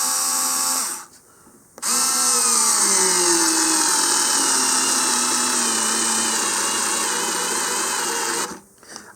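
A 4-volt cordless drill drives a 1.5-inch number 8 screw into wood with no pre-drilling, its loud steady whine running for about seven seconds after a short start and pause, with the motor pitch shifting as the screw bites in.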